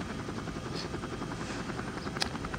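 A helicopter in the zombie shooter game Left to Survive, its dense rotor thrum steady and loud throughout, with a sharp impact crack near the end as it takes a hit.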